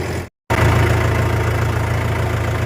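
A Mahindra tractor engine runs at a steady idle in a farm field during ridge-making work, a low continuous rumble that cuts out for a split second, then resumes just as loud.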